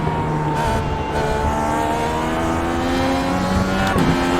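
A Dallara DW12 IndyCar racing around Laguna Seca in iRacing, its engine holding a steady loud high-pitched drone with rising and falling harmonic tones through gear changes, no voices over it.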